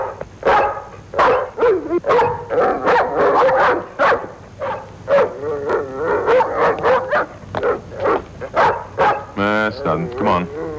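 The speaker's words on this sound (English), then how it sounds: "Why is he barking?" A dog barks in repeated sharp bursts, with whimpers and yips mixed in, close by and fairly loud, while people talk over and between the barks.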